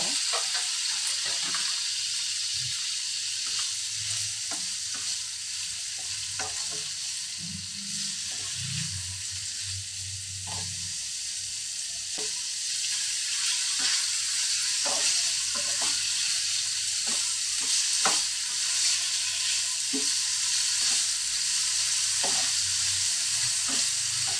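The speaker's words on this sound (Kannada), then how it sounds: "ಈಗ ಮೊದಲಿಗೆ ಪನ್ನೀರನ್ನ ಫ್ರೈ ಮಾಡ್ಕೊಳ್ಳೋಣ ಒಂದು ಐದು ನಿಮಿಷ" Paneer frying in about a tablespoon of oil in a pan, a steady bright sizzle throughout with repeated light clicks of stirring, close and continuous, with no talk.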